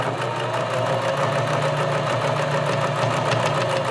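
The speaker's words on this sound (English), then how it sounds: "sewing as close to the edge as you like." A sewing machine stitches around a boxer shorts pocket, producing a continuous, close, even mechanical whir with a rapid steady chatter and no pauses.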